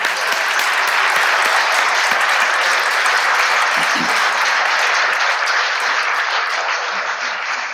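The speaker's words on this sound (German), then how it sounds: "einen kräftigen Applaus" A large conference audience gives strong, sustained applause, dense and even clapping that holds at full volume from start to finish with no speech over it.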